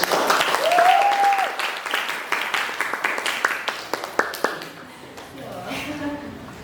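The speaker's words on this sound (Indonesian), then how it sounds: "Bisa bagi tepuk tangan." An audience at a talk-show event gives a round of applause, with dense clapping that gradually thins out and fades, while a voice speaks briefly over it.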